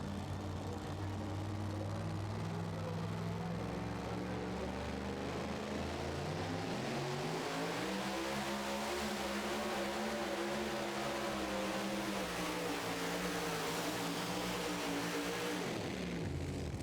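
Two-wheel-drive pulling truck roaring at full throttle down the track at a truck pull finals in Hillsboro, Wisconsin, a loud, continuous engine howl whose pitch climbs midway, holds steady, then drops off near the end.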